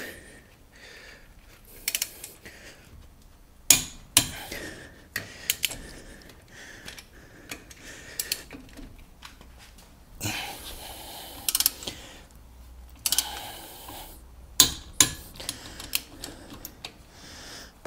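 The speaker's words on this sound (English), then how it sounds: "Torque wrench is already set at 95." A torque wrench set to 95 tightens bolts during maintenance on a Honda Civic, giving sharp mechanical clicks and ratcheting bursts scattered irregularly through the stretch, close and fairly loud against a quiet background.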